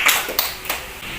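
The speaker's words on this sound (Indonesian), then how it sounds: "tepuk tangannya untuk kita semua" A few scattered, distinct hand claps, about three sharp separate slaps with short gaps between them, close and fairly loud rather than a full audience wave.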